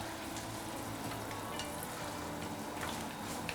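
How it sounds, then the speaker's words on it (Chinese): Snow peas and shrimp stir-fried in a hot wok sizzle and crackle steadily throughout, a dense close frying hiss with no voices. "这是荷兰豆、青虾仁下锅一起，再炒"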